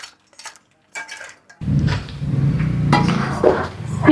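A metal lid set down on a pot of crab masala gravy, a few small clinks of cookware followed by a sudden louder clatter and rattle as it settles.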